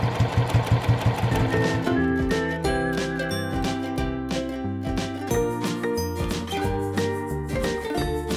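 A sewing machine stitches a quilted knitting and crochet needle case, running steadily with a rhythmic mechanical hum and clicking, plus light metallic tinkles throughout, close and loud with no talk.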